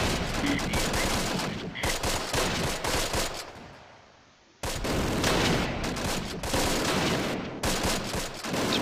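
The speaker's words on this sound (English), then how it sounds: "It's another machine gun, for God's sake." Machine gun fire rattles through the Close Combat: Last Stand Arnhem war game in loud, dense sustained bursts. It breaks off briefly midway, then resumes just as heavily.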